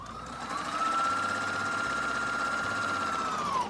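A domestic sewing machine stitching a seam along the presser foot edge, a fast even mechanical whir with a motor whine held steadily for a few seconds, close and alone.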